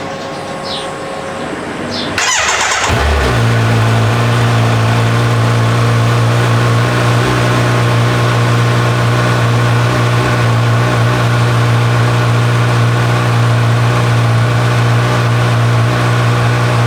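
A 2026 Kawasaki Z900 superbike, Black & Gold Edition, cranks briefly, then fires up and settles into a loud, steady idle that holds close by, with no talk over it.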